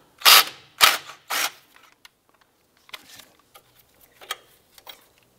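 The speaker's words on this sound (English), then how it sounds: "we're going to remove this 10 millimeter bolt holding our brake line in place." A wrench working on a 10 mm brake line bolt on a Cadillac DTS, with three loud ratcheting bursts at the start, then faint scattered clicks and taps, close and without talk.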